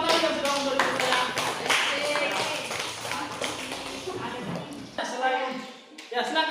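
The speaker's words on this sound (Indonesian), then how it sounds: "tepuk tangan dulu untuk adik" Classroom applause for a student during an Indonesian lesson, a burst of many hands clapping from a group that thins out after about five seconds, with voices mixed in.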